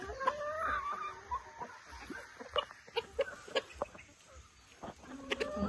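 A chicken clucks in short, irregular bursts, fairly close, with scattered rustling and faint background noise between calls.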